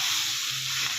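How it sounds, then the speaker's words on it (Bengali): Vegetables with cumin powder and green chillies frying in a pan, a steady dense sizzle with no break and no talk over it. "জিরা পাউডার দিয়ে এখন ভালো করে কষিয়ে নেওয়া হবে"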